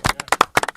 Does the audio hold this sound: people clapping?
yes